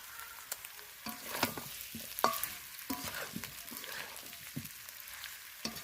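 Spiced meat curry, kosha, sizzles as it is stir-fried in a pan, with repeated scraping strokes of the spoon over a soft, steady frying hiss. No voices.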